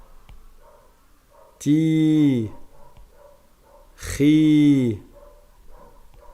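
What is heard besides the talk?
neighbours' dog barking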